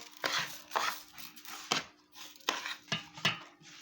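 Chopped vegetables being stirred with tomato sauce in a pan, several separate scraping and clattering strokes of utensil against cookware in an irregular rhythm, close and fairly quiet.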